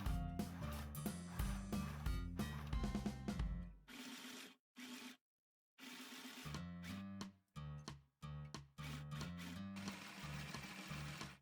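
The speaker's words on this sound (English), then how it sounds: "I'm going to start sewing, and I'm going to do a reverse kangaroo hop at the beginning and at the end" A mini sewing machine stitches an infinity scarf tube in several loud, close bursts of rapid needle chatter, separated by short stops and a brief silence, with reverse stitching at the start and end.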